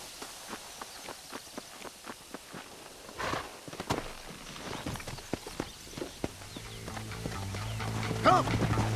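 Horse hooves clip-clop at a walking pace in Red Dead Redemption, a steady series of fairly faint hoof falls, with a low engine-like drone and a brief sharper sound creeping in toward the end.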